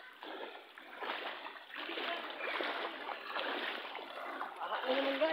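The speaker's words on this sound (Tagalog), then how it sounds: "Baha na naman oh." Floodwater splashes and churns during flooding at a home where pigs have been driven indoors, a continuous, fairly close rushing and splattering that surges in waves and grows louder toward the end.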